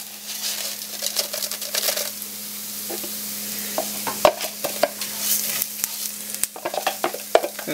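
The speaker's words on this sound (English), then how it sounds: "keep moving everything around, letting the rice absorb the oils, and lightly toasting the rice" Arborio rice stirred and toasting in olive oil in a pan, a steady low sizzle under repeated scraping and clinking stirs, close and moderately loud, with no talk.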